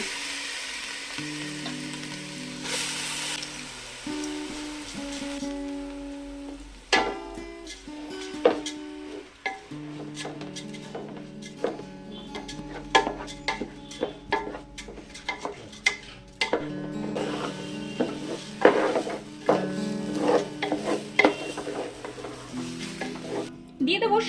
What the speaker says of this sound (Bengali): তিন চার মিনিট মতো ভেজে নিয়েছি খুব ঝরঝরে হয়ে গেছে